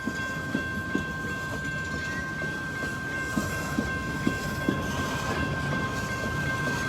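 A Norfolk Southern freight train rolls steadily through a rail yard, with a sustained rumble, a high squealing tone and periodic clanks as wheels cross rail joints.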